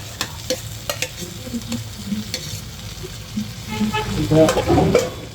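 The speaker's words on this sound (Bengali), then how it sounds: "এবার কিন্তু আমরা এর সাথে মাংস দিয়ে দেবো ভেজে রাখা" Pre-fried chicken pieces tipped into a sizzling pot of spiced potatoes for chicken biryani, with steady frying hiss and repeated scraping stirs that grow louder and busier toward the end; no talking.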